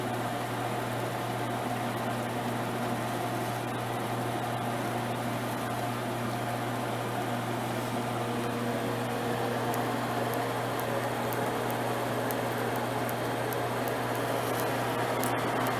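A USI ARL 2700 thermal roll laminator runs a poster through 3 mil film with a steady, even mechanical hum and hiss that holds unchanged throughout, with faint ticking near the end.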